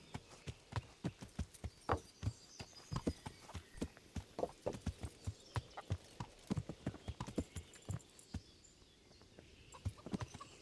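Steady clip-clop of horse hooves at a walking pace in the video game Kingdom Come: Deliverance, moderately close, with a brief whinny among the hoofbeats.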